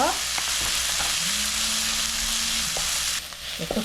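Onions frying in a pan with red chili powder, a loud, dense, close sizzle holding steady for about three seconds before dropping sharply, with a faint low hum running beneath.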